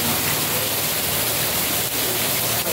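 Steady, dense rain hiss fills the whole clip at fairly loud level, a continuous broadband wash with no voices over it, heard during an outdoor fishing session.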